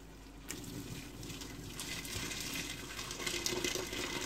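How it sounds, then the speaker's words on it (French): Hot water pours into a couscous pot with tomato sauce already inside, a soft steady gushing stream that gradually builds in fullness, faint and close. "Donc maintenant, je vais mettre l'eau chaude."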